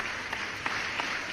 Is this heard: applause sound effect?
yes